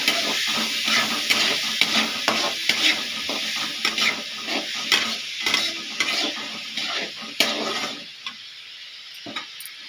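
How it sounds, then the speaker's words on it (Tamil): Onions sauté in a pan for vada curry, with a continuous bright sizzle and rhythmic scraping strokes of a spoon, the stirring easing and turning quieter toward the end. "வெங்காயம் நல்லா வதங்கட்டும்."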